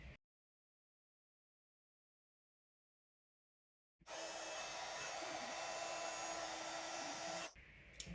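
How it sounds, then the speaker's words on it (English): After four seconds of silence a heat gun starts up to emboss white powder on a stamped card, blowing as a steady, close, airy whir for about three and a half seconds before it cuts off. "So I'm just going to heat emboss that in white."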